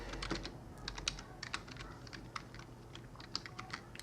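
Steady, uneven typing on a computer keyboard, close and clear, with individual keystrokes clicking in quick bursts and short pauses, no voices.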